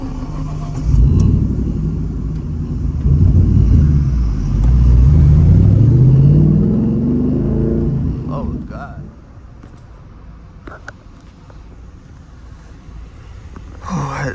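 Steady low rumble of an idling 2014 Ford Mustang GT engine that is overheating, loud and close for most of the stretch, then dropping to a quieter hum with a few faint clicks near the end.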